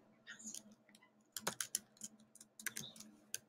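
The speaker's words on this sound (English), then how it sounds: "So suppose I want to type in a vocab word. I would just press Control B" Keyboard shortcut keys pressed on a computer, a few quiet, close clicks and taps in short irregular bursts against a soft, faint background.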